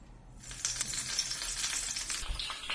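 Curry leaf stalks dropped into hot coconut oil in a pan, a steady close crackling sizzle with scattered pops that swells after a quiet start and continues without pause.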